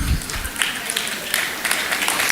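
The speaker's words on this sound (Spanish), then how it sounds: "Aplauso interesado." An audience at a conference on play and childhood applauds, steady clapping from many hands at moderate distance, with a louder burst at the start and continuing evenly.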